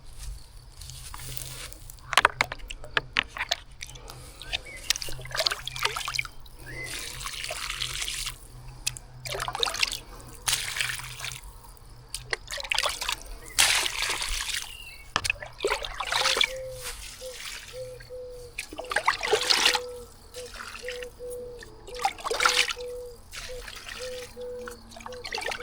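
Water trickles and splashes onto dry clay soil while a potato bed is watered in the arid Rostov–Luhansk steppe, an irregular run of close pours and dribbles with quiet gaps between bursts.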